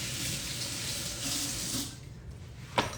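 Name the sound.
tap water running while washing carrots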